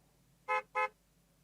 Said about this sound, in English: A car honks its horn.